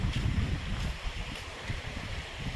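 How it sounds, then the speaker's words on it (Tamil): Sea waves and wind roar at Poompuhar beach, a constant rushing surf with heavy wind buffeting the microphone and no speech. "அது கடல், எனக்கு பின்னாடி இருக்கிறது கடல்."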